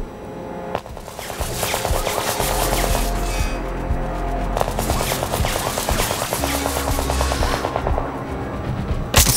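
Rapid automatic gunfire in the shooter game Sniper Ghost Warrior Contracts, loud and close, in dense sustained bursts with short gaps across the whole stretch.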